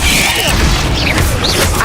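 An Incendio fire spell is cast in Hogwarts Legacy: a loud, close whooshing burst of flame with crackling and a thumping impact, over a dense game background.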